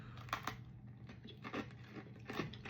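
Crunchy chewing of chocolate covered pretzel Oreos, with several close, crisp bites and chews spread across a few seconds, fairly quiet with no talking.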